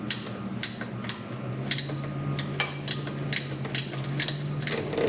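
Ratchet working the tension bolt on a Mitsubishi Lancer's accessory belt, giving a steady series of sharp clicking strokes at an even rhythm, close and clear with no talking.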